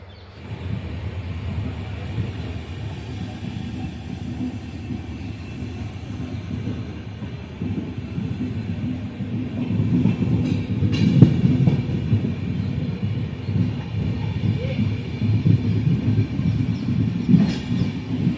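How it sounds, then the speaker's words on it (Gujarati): Passenger train from Himmatnagar Junction running along at steady speed, a continuous low rumble of wheels and carriages that grows slightly louder and rougher partway through, with occasional rattles and clanks. "આપણી જે ટ્રેન છે એ સતત ચાલી રહી છે"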